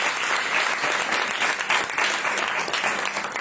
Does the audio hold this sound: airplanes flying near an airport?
no